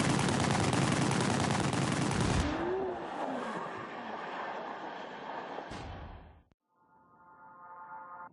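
Gunfire during a car chase in The Grand Tour game, with a dense loud rattle of shots over engine roar at the start, then a lower rumbling drive, a sharp crack and a brief dropout.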